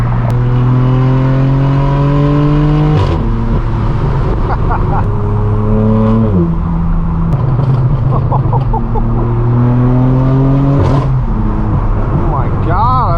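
A straight-piped BMW M4 F82 pulling hard on a highway at night, exhaust roaring up through the gears in repeated rising sweeps with sharp shift breaks, very loud and close.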